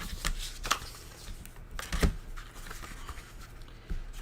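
Paper pieces are being cut for a pink Christmas mini album, with a series of crisp snips and rustles coming in irregular bursts, close and fairly quiet, with no talking.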